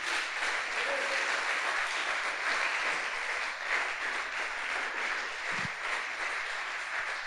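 A church congregation applauds during a sermon, steady broadband clapping sustained throughout at moderate level, with a faint low thump near the end.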